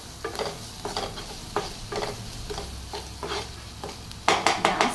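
Vegetables frying with salt, oregano and spices in a pan for a paneer veg roll, with rhythmic spoon scrapes and stirring over a low sizzle, growing louder with sharper clatter near the end, close by and without talk.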